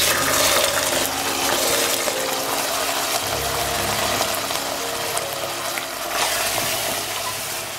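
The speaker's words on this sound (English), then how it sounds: "As our chicken is frying" Chicken pieces fry in a hot pan with onion and peppers for a stir-fry, giving a steady, loud, close sizzle and hiss that runs throughout without pause.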